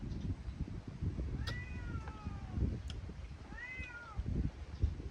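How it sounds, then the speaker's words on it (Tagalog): Two drawn-out cat meows rise and fall over a steady outdoor rumble, one in the middle and one toward the end. "Ang pusa nagay-ngay oh."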